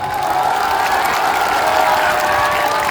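Political rally crowd in Bihar applauding steadily, a dense continuous wash of clapping and crowd noise with no break across the clip.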